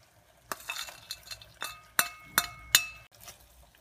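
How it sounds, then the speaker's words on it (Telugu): A spoon stirs fried cashews and raisins into semiya kesari in a metal pan, with a series of clinking scrapes and taps at an irregular rhythm, close and fairly quiet. "ముందుగా వేయించి పెట్టుకున్న ఈ జీడిపప్పులు కిస్మిస్లను కూడా ఇందులో వేసి కలుపుకోండి"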